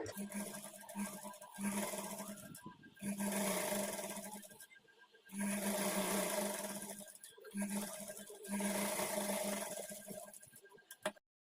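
A sewing machine runs close by in several steady bursts with short pauses, stitching blouse lining along a half-inch margin.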